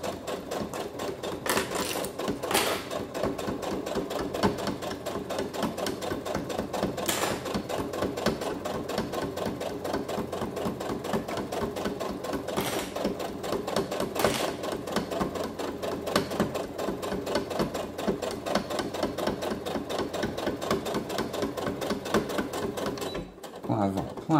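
A domestic sewing machine runs steadily, stitching fabric for a small toothbrush case, with a continuous close whir that pauses briefly near the end, and someone speaks intermittently over it.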